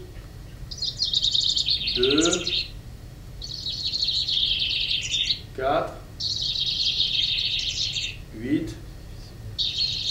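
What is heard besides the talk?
recorded bird vocalizations, several birds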